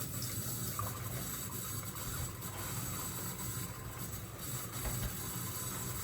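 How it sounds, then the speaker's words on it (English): Tap water runs in a steady, continuous rush while a cat is combed for fleas, moderately loud and unbroken with no talking. "We turn the water on."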